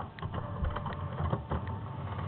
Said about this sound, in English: You'll hear my printer while that's printing